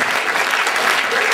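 An audience at a live magic show applauds in a brief, dense burst of steady clapping.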